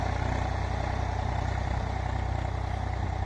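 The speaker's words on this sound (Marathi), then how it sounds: "अशा प्रकारे चालू आहे ट्रॅक्टर गहू पेरणी" A tractor engine running steadily while sowing wheat in a field, a continuous low drone with an even rumble that stays constant throughout, no voices.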